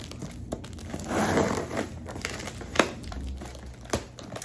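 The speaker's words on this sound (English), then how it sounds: "So here's the second package, and we're gonna open it up." Continuous crinkling and rustling of packaging material, with a few sharper crackles and taps as something is handled close by.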